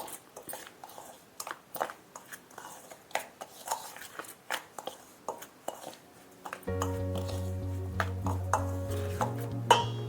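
Cauliflower pickle being stirred in a pan with fried fenugreek and mustard powder, giving a run of close scraping and clinking utensil strokes. A steady low hum joins in partway through.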